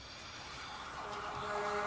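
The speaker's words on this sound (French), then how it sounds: "qu'est-ce que c'est ça encore, là? Les pompiers." A fire engine siren approaches, starting faint and swelling steadily louder over about two seconds, with no one talking.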